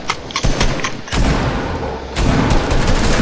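Gunfire and heavy impacts from a battle royale video game, dense booming bursts filling the whole stretch in loud overlapping waves, with a sharp surge of shots about a second in and another near the two-second mark.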